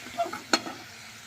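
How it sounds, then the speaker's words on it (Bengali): Fried potatoes in a pan give a short burst of sizzling and stirring, with one sharp clack of a utensil against the pan. "আলুটা ভাজানো হয়ে গেছে খুব ভালোভাবে"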